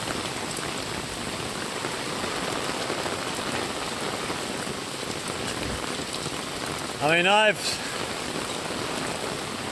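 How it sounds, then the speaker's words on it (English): Heavy rain pours steadily onto a flooded street, a dense even hiss that runs throughout, briefly interrupted near the end by a short spoken phrase close by. "seen heavy rain here before, but I've not seen it flood quite like this before"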